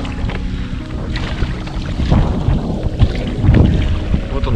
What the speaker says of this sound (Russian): Поднялся шквалистый ветер